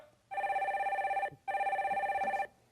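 A telephone rings on a Korean radio call-in show, two sustained electronic ring bursts with a brief pause between them, loud and clear with no talk over them.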